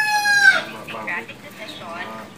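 A rooster crows once, loud and close, its call trailing off into a few clucks.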